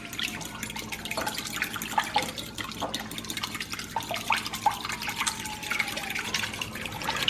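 A fork rapidly mixes an egg and a third of a cup of water in a bowl for a Texas sheet cake, a steady wet clinking and sloshing close by and continuous.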